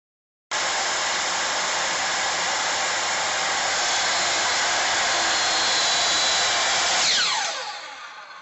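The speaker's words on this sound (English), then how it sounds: "I got to use my dad's miter saw." A miter saw starts abruptly and runs at a constant high whine for about seven seconds while cutting wooden dowels, then winds down as the blade slows, loud and close with no talk.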